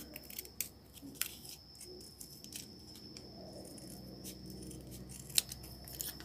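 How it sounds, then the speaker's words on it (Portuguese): Scissors snip out a homemade laminated plastic keychain, giving a series of close, crisp cuts at an uneven pace with small rustles between them and no one speaking. "Vou recortar aqui bem fininho."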